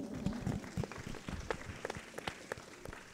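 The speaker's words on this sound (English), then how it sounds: "Clap, please. It's a big deal." Audience applause in a room during a talk on academic tracking, a burst of clapping that thins into scattered claps, moderately loud with no speech over it.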